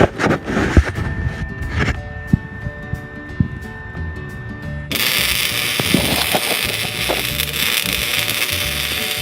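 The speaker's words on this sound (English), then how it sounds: "Guys, I am ready to weld now." Stick or arc welding in a home workshop, a steady loud crackling buzz that switches on partway through and holds alone after a few scattered knocks and clanks in the first seconds.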